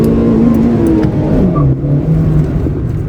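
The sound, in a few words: Honda car VTEC engine revving at high RPM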